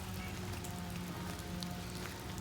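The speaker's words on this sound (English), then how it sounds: "the rain's starting to really pick up" Steady rain falls outdoors in the aftermath of a tornado, a dense, even hiss of drops on surfaces with no voices.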